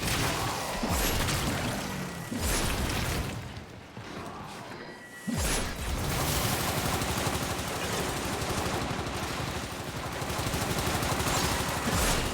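Heavy gunfire in Warframe pounds almost nonstop in rapid, dense bursts, briefly dropping to a quieter lull midway before a sharp crash brings the loud barrage back in full, with no one speaking.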